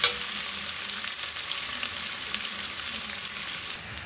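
Onions browning in a pan of oil for an Andhra-style Rayalaseema chicken curry, a steady, close sizzle and crackle of frying that runs evenly throughout with no talking.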